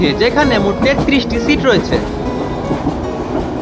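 A Kishoreganj Express train rumbles and clatters as it pulls into Narsingdi railway station, loud and close, while someone speaks over the noise.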